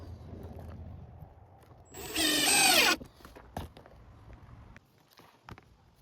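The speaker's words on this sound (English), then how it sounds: "I'm pre-drilling the holes so the screw doesn't split the form board." A power drill pre-drills holes in wooden concrete form boards, one short whining burst of about a second, followed by a few knocks and handling clicks in a quiet workspace.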